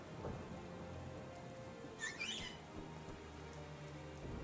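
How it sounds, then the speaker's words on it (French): Steady rain falls throughout the Isle of Armor area in the video game Pokémon Shield, a constant hissing downpour with occasional brighter drip and splash accents, heard alone with no talking. "il y a un peu de pluie dans le jeu"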